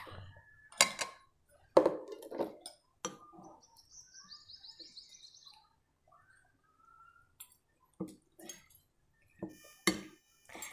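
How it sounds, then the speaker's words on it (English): Chopped capsicum, onions and paneer tipped into a bowl, a few scattered clinks and soft thuds of pieces and utensils against dishware, with faint bird chirps in the background on an outdoor terrace. "So now let's add capsicum, onions and paneer."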